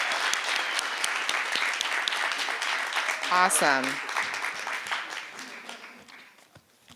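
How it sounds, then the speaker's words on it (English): Audience applause at the MIT IDEAS Social Innovation Challenge Awards 2022 ceremony, a broad wash of clapping that swells and then gradually dies away, with voices and a brief exclamation over it. "I think we can do a little bit better with the applause"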